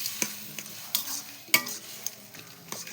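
Fish head being stirred and scraped around a hot frying pan for a gourd and rice-flour dish, with a soft sizzle under scattered utensil scrapes and taps at an uneven rhythm, close and fairly quiet.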